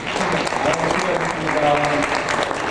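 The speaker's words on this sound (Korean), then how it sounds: "격려의 박수." A church congregation at a Christmas Sunday service claps in encouragement for members who read the Bible, a loud, dense, sustained round of applause with voices murmuring underneath.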